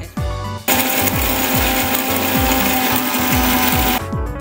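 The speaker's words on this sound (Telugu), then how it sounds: "కొంచెం ఎండు కొబ్బరి, కొంచెం ధనియాలు, కొంచెం చెక్క, కొంచెం లవంగాలు వేసి మిక్సీ." A mixie grinder whirs loudly, grinding dry coconut, coriander, cinnamon and cloves into masala. It starts in short pulses, then runs steadily at a high whine for about three seconds and stops abruptly.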